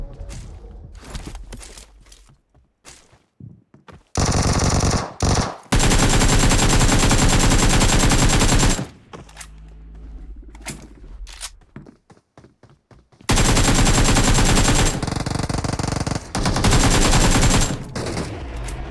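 Bursts of automatic gunfire aimed at the player in PUBG Mobile, loud and close, coming in several long sustained volleys separated by quieter gaps with scattered single shots.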